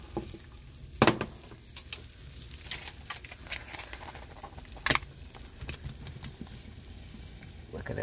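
Shrimp sizzle and crackle steadily in a hot pan, with a few sharper pops and spatters over the continuous close frying hiss.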